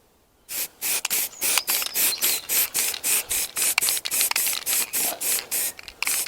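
Close-up bursts from a spray paint can laying a light dust coat onto a motorcycle mudguard for a Triumph Sprint 900, in about twenty short, regular hissing pulses that stop and start rapidly.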